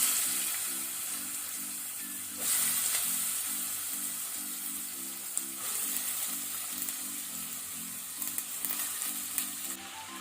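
Ridge gourd frying in a tempering of urad dal in a pan over medium-low flame, a steady close sizzle with the scrape of occasional stirring, no voices.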